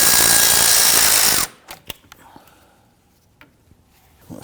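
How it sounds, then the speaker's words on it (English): A power tool whirs loudly on the bolt holding a Volvo S60 radiator, then stops abruptly, followed by a few faint clicks and taps of the tool against metal. "We're going to use our 8mm to loosen this."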